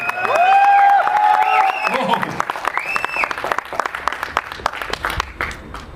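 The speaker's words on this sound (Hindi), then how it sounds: "योगराज सिंह साहब के लिए जोरदार तालियां हो जाएगी।" Applause and cheering from the audience at a Punjabi film trailer launch follow an announcer's amplified voice, with scattered, crisp claps continuing after the talk ends.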